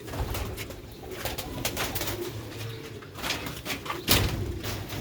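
Tiger pigeons, a breeding pair, coo steadily in soft low repeated calls close by, with a faint background rustle and a brief sharper clatter near the end; no one speaks.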